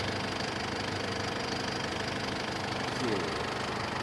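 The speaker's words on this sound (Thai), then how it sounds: "เครื่องยนต์สวยเดิมโรงงานเดินเรียบ" Isuzu D-Max Hi-Lander Double Cab 3.0 Z-Prestige diesel engine with automatic gearbox idling steadily and smoothly, a continuous low rumble with faint knocking texture, heard up close with no talk.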